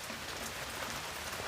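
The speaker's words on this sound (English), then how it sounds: "Forrest, that is hail. It's heavy rain" Heavy rain pours in a steady, dense hiss of drops hitting a surface, fairly quiet and unbroken, with no talking.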